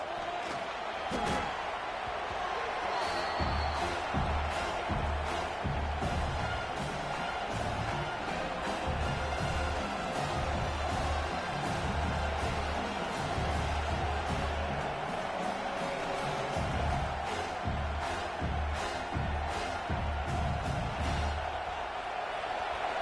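A home crowd roars in a college football video game, a loud, steady stadium wash with thumping low bursts throughout, going on without a break as the defense faces third down.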